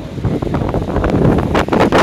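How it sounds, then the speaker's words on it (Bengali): Storm wind from Cyclone Remal at night roars and buffets the microphone, loud, gusty and turbulent with surging blasts, and no voices heard. "বর্ষা বেশি হাওয়া দিল"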